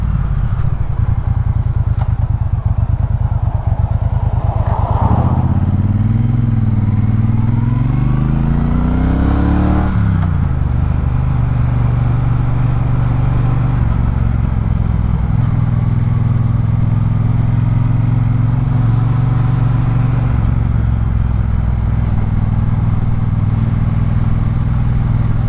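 A Triumph Speedmaster motorcycle engine roars loudly and close, revving up through rising pitches, then settles into a steady, powerful drone.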